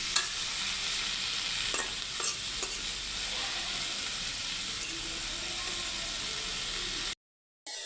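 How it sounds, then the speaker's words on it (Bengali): Spices and stem greens sauté in a pan, a dense, even sizzle with occasional scraping strokes of a spatula, continuing steadily until a sudden cut to silence near the end. "সুন্দরভাবে মশলাটাকে কষিয়ে নিচ্ছি"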